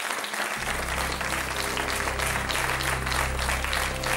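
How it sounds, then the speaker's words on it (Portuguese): A TV studio audience applauds to welcome a guest onto a show, dense continuous clapping that starts abruptly and holds steady and loud throughout. "E agora sim, vamos receber com um grande aplauso a Sónia."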